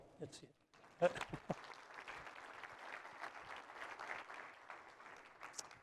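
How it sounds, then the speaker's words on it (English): An audience at a commercial real estate symposium in Idaho applauds faintly and steadily after a brief bit of talk at the start. "It's okay to applaud."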